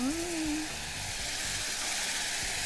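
Butter and sugar sizzle in a pan on a stove, a steady, dense hiss of frying that stays even throughout, with a brief brighter tone at the start.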